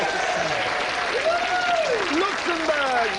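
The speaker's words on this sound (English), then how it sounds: "Give a nice round of applause." A studio audience at a TV game show applauds steadily throughout, a dense wash of clapping with a musical tone gliding faintly underneath.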